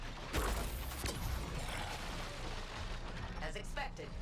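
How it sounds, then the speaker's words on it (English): Explosions boom in a superhero action video game, two sharp blasts early on followed by a dense rumbling wash of effects, with a voice talking over the noise. "What is that explosion?"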